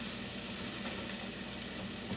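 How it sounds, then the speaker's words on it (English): Chicken sausage and peppers fry in a pan as cheese is stirred through them, giving a dense, even sizzle that holds steady and close throughout. "So now the cheese is on there. I am stirring it around just to spread it out."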